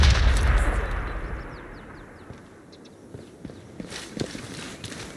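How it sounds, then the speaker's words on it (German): A grenade in Sniper Elite 5 bursts with a heavy low boom at the start that rumbles and fades, followed by scattered small clatters and faint footsteps. "Vorsicht! Granate!"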